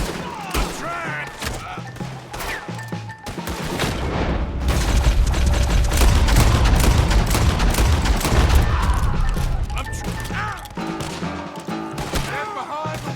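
Sustained gunfire from a Red Dead Redemption 2 shootout, dense overlapping shots and booms building into a loud, continuous barrage with music and game voices mixed throughout.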